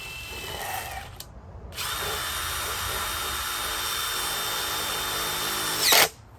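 Power drill driving screws into 2x4 lumber while building a portable chicken perch: a short whine, a brief pause, then a long steady high-pitched run ending in a sharp final burst as the screw seats, with no talking.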